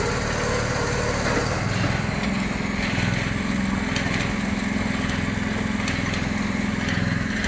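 A diesel engine drives a mini monkey hoist, a small construction crane, running at a steady loud chug with a high mechanical whine throughout, close by and continuous with no talk over it.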